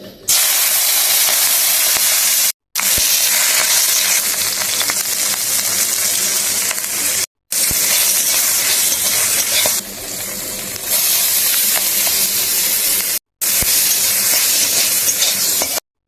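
Crabs and shrimps sizzle hard in a hot pan, a loud steady hiss of frying broken by three brief silent gaps, with no voices over it.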